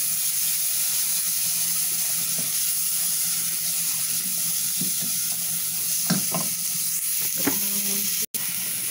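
Garlic and softened onion browning in a pan, a steady loud sizzle running throughout, with a few scraping stirs and utensil knocks toward the end.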